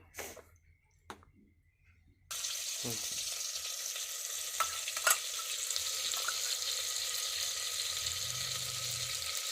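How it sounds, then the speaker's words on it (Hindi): Cumin seeds fry on a low flame, starting with a few faint clicks and knocks, then breaking into a steady, moderate sizzle with occasional pops that continues to the end. "और फ्राई भी हो रहे हैं धीमी आंच में यहाँ पे।"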